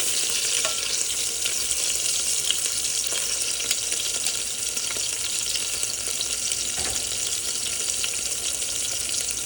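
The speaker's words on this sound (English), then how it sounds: "You're gonna let the rest of it sear, give it a swirl" Meatballs searing in a hot pan for spaghetti and meatballs, a steady, close crackling sizzle running unbroken throughout with no talk.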